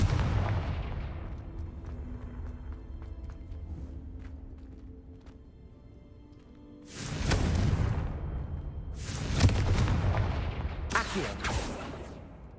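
Confringo fire spell going off in the Hogwarts Legacy video game: three loud, booming blasts in quick succession over low rumbling game ambience, each fading with a short tail.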